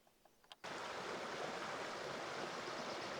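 Rodgers Creek in the Tehipite Valley wilderness rushes steadily and close, a dense broadband wash that cuts in abruptly after a few faint taps and then holds constant with no voices.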